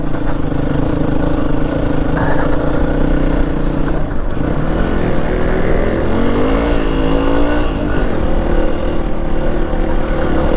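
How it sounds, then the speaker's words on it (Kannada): Car on an off-road loose gravel track with wheels spinning and slipping, a loud continuous engine roar with rising revs and rough crunching throughout, close to the microphone. "ಫುಲ್ ಗಾಡಿ ವೀಲ್ ಸ್ಪಿನ್ ಆಗ್ತಾನೆ ಇದೆ."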